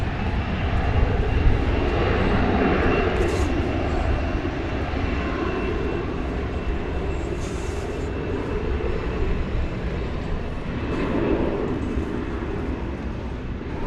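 An American Airlines jet at DFW Airport at night gives a steady, distant engine roar that swells and fades slightly over a continuous broadband rumble.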